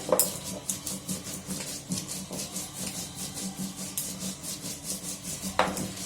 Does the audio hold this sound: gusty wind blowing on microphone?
no